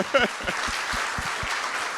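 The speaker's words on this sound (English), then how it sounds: "I think she deserves a round of applause" Audience applause at a library book talk, a dense wash of clapping with a brief whoop at the start, moderately loud and steady.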